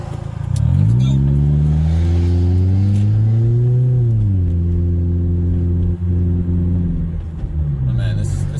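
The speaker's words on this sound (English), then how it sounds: "Engine's all warmed up. Everything's fine. And it sounds even better." A warmed-up 2009 Pontiac Vibe engine runs loud and close, its deep hum rising in a smooth rev, holding high, then dropping back to a steady idle with a faint rise near the end.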